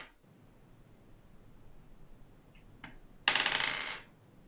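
A big handful of dice is rolled and dropped onto a table during a tabletop Dungeons & Dragons session: a few faint clicks, then a loud, dense rattling clatter lasting about a second before it stops abruptly.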